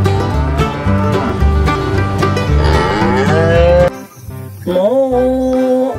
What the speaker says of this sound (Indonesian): ternyata ini ada seekor sapi